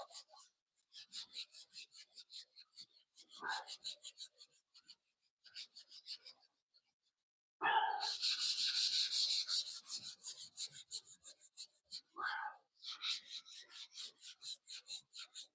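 400-grit sandpaper rasps back and forth by hand over filler primer in quick rhythmic strokes, close and fairly quiet, with a longer continuous scrubbing burst midway and brief pauses between.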